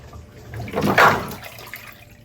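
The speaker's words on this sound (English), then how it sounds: "So you open the filter by rotating, and a lot of water is coming." Water gushing out of the opened drain filter of a front-loading washing machine, a short surging splash that swells to a peak and then fades, close and without talk.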